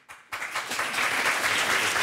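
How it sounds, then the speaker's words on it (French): Studio audience on a French television show breaks into applause after a brief quiet gap, a dense, fairly loud clapping wash that builds and holds steady to the end. "Applaudissez pas. C'est pas la peine."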